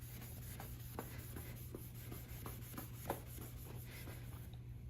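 Quiet, rhythmic rubbing of a sponge scrubbing a discolored car bumper, with soft repeated strokes over a low background hum.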